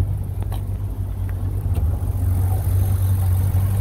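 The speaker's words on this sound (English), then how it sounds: "we're going to pop the hood and we're going to get a better sound of the engine" A 2008 Chevrolet Corvette Z06's 505-horsepower LS7 V8 idles steadily with a deep, even rumble, close by and continuous, with no talking.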